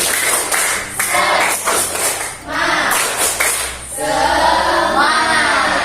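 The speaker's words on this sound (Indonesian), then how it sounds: "Tepuk semangat." A group performs the rhythmic "tepuk semangat" clapping chant in a classroom, with bursts of patterned claps mixed with chanted voices, loud and close throughout.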